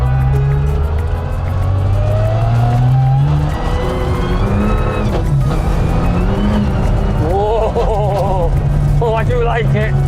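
Porsche Cayenne driving with engine note rising and shifting, the driver braking at points, loud and close inside the cabin with someone talking over much of it.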